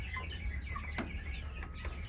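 Scattered soft clucks and short chirps from chickens, a few calls spaced out over quiet background noise.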